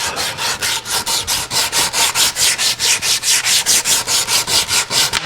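Rhythmic rasping and filing strokes on a wooden twisted hollow form, steady back-and-forth scraping at about four strokes per second, close and loud with no talk.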